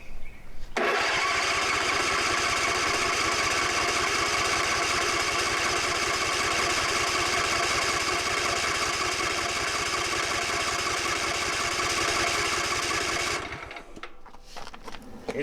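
A John Deere Z255 mower engine cranks steadily and loudly after a fuel pump replacement, a continuous rapid chugging drone lasting about thirteen seconds before cutting off to quieter noises.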